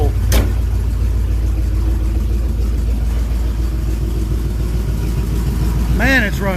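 A 1967 Chevrolet C10 pickup's engine, freshly fitted with a new camshaft, runs steadily and loud at close range, with a voice briefly heard near the end.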